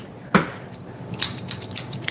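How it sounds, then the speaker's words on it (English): Gardening scissors snip several times in quick succession, sharp metallic clicks close by, after a single louder knock; no talking. "That's the sound of some scissors."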